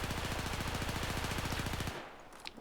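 Rapid, continuous automatic fire from an AEK-971 rifle shot from the hip in Battlefield 4, a loud evenly spaced stream of shots lasting about two seconds before cutting off.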